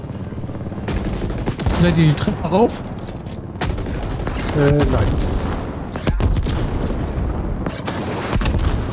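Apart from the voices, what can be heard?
video game gunfire firefight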